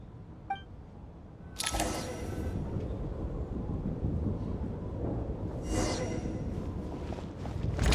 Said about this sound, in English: What is going on with this storm?